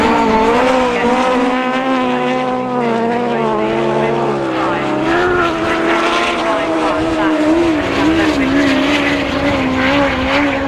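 Autograss race cars roaring around a dirt track at St Neots, engines loud and continuous with rising and falling revs, while a commentator talks over the racing.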